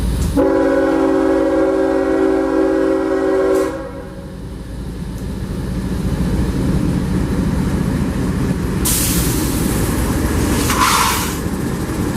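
Freight train Q442 passing through Plant City: a loud, close train horn blasts for a few seconds, then steady rumbling and rolling of the passing cars, with a brief hissing burst later on.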